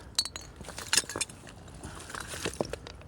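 Old glass shards clinking together while digging in a river bank, a few sharp separate clinks close by over soft scraping and rustling.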